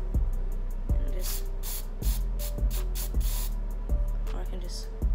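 Short, sharp bursts of piercing cleaning solution spray hiss repeatedly in a quick irregular rhythm, close up, over a low electrical hum.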